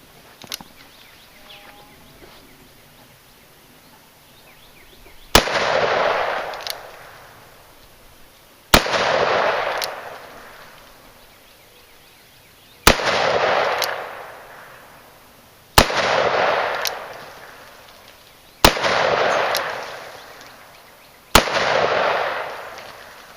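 Six loud, sharp gunshots from a Taurus 44 Magnum revolver firing Winchester jacketed soft points outdoors, spaced a few seconds apart, each crack followed by a rolling echo that fades before the next.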